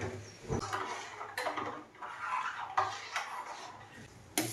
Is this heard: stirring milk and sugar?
yes